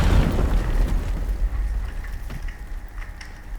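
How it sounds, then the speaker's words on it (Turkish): A grenade explodes inside a building in the video game Teardown, opening with a heavy, deep boom that decays into a rumbling, crackling tail of falling debris lasting a few seconds. "Evet içeriye bomba atıyorum."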